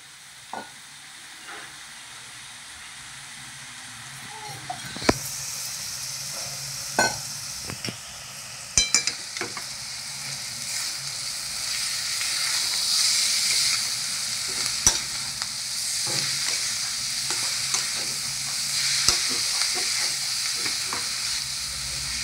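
Small prawns fry in a pan with onion, a continuous sizzle that swells over time, broken by frequent clanks and scrapes of stirring, no talking.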